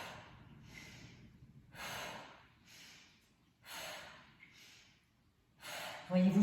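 Forceful breaths out during a standing abdominal workout, close and rhythmic, several long airy exhales alternating with quieter pauses, with a low steady background underneath.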